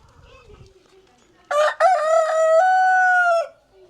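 A caged chicken calls out in one loud, drawn-out crowing cry lasting about two seconds, close by, after faint low murmurs and clucks.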